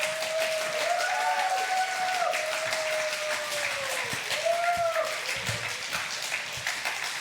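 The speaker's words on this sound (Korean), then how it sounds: "총장님 나왔을 때 우리와 같은 박수 부탁합니다" An audience at a university chapel service claps for the arriving university president, a sustained wash of applause that holds steady for several seconds with no voices clearly heard over it.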